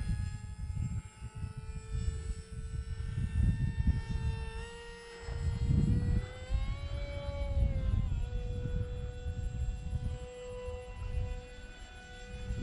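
A Hobbyzone Aeroscout RC plane, a small electric beginner model on a 3S battery, whines steadily overhead, its motor pitch rising and falling as it passes, fairly near and loud throughout, with no talking.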